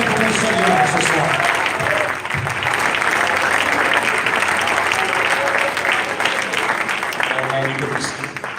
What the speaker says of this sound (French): would you just clap your hands one more time to the Lord?